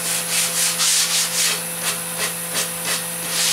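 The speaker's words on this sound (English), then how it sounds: "Take the sanding block." Rhythmic rasping strokes of a sanding block rubbed back and forth along a wood edge, close and steady, about a dozen passes over a faint hum.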